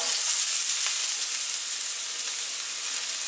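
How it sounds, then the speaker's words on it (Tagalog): Garlic sautéing in hot oil for a Filipino sweet and sour tilapia dish gives a steady, bright sizzle and hiss, close and even throughout with no talking. "So, magigisa na tayo. Ang bawang."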